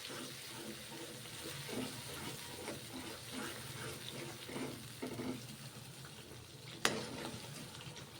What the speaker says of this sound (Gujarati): તો આપણે મસાલાને તેલમાં પાકવા દેશું.